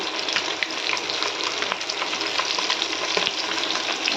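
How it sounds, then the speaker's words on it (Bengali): Big fish frying in hot oil, a steady dense sizzle with frequent sharp spatters and pops crackling throughout at close range. "মাছটা ভাজছি তো কী বলো তো বড়ো মাছের তেল থাকার জন্য একটু বেশি ফাটে"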